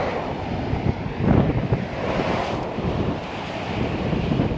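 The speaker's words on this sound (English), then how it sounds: "She's windy out here." Wind blowing hard outdoors at a Hot Rod Power Tour car event, gusting loudly across the microphone in a rough, continuous buffeting roar.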